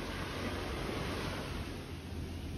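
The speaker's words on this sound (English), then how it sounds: "can you hear the ocean?" Ocean surf rolling in a steady broadband wash, moderately loud and continuous with no voices, as if heard from a nearby shore.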